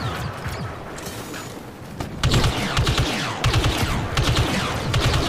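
Rapid gunfire in Star Wars Battlefront 2 during a battle on Starkiller Base: loud, dense volleys of blaster shots in repeated bursts, close and continuous with no talking.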